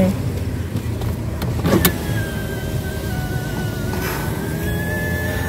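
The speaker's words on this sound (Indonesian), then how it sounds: "Tapi aku buka jendela sedikit friends." A car's power window whirs open a little during a drive through a safari park, a rising electric motor tone over steady engine and road noise inside the cabin, with a brief thump partway through.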